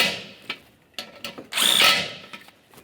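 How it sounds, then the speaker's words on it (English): Bumper bracket bolts on a Nissan Altima are snugged with a power tool, heard as several short close bursts of whirring followed by one longer run, with quiet pauses between. "Let's start in the 2 center bolts and snug them up."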